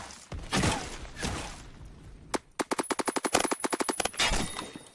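SCAR PDW fire in the Roblox shooter Phantom Forces: a couple of single shots, then a fast, loud, rhythmic automatic burst of a dozen or so rounds, with faint game noise underneath.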